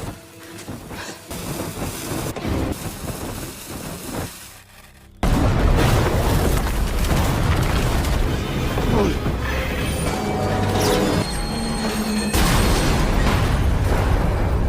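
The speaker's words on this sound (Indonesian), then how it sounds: "Setelah Volkov tewas dalam ledakan" A film explosion on a bridge bursts in suddenly after a quieter stretch, a loud, dense boom that gives way to a sustained roar of debris and rumbling, with voices heard underneath.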